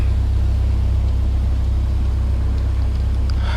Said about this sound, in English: the engine should be nice and warm